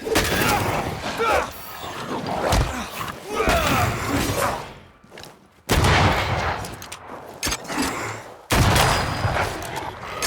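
Artillery blasts and rapid gunfire in the video game Banishers: Ghosts of New Eden, loud repeated bursts and impacts with brief lulls, voices shouting in between.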